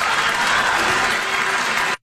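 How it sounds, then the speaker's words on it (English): A crowd booing during a State of the State address, a loud, dense roar of many voices sustained for about two seconds before cutting off abruptly. "some people are actually booing the concept that parents should have a say in their child's education"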